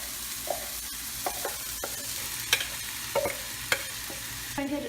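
Rice with green peas and cumin frying in hot oil, a soft steady sizzle broken by several distinct scraping stirs and spoon knocks against the pan.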